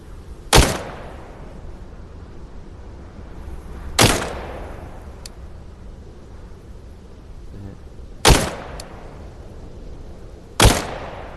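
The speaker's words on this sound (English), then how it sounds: "So we're gonna shoot him with a rifle and then I'm gonna try to go to a sniper." Rifle gunshots in a VR shooting video game: four sharp, loud single cracks spaced a few seconds apart, each with a short decaying tail over a quiet background.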